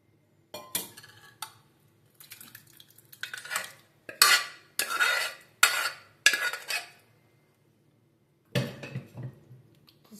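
Tomato dal scraped out of a pressure cooker into a bowl with a spoon, heard as a run of close, distinct metallic scrapes and clinks in irregular bursts, with short pauses between strokes and no talking.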